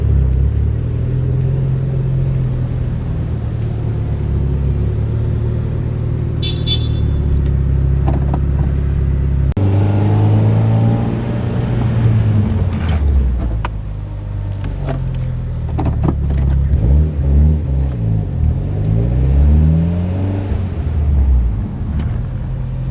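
A Mitsubishi Evo X fitted with new Brembo pads and rotors drives along, its engine a steady loud rumble throughout with shifting tones as it accelerates and revs, and no talking.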